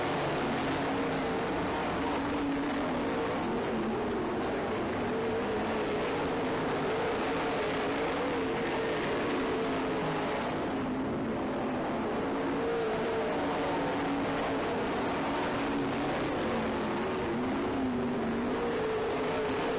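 Race cars lapping a track in a late-race battle, a steady wash of engine drone that rises and falls as the field passes at a distance, continuous for the whole stretch with no voices.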